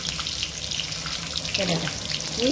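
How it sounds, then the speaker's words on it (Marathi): Stuffed brinjals drop one at a time into a hot pan with curry leaves, sizzling and spattering steadily in hot oil, with a few louder splashes of frying as more pieces go in near the end. "मी सगळे वांगे याच्यात एक एक एक एक करून टाकून घेते"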